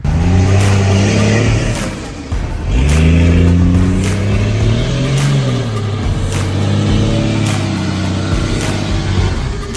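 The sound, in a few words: Dodge Cummins diesel truck revving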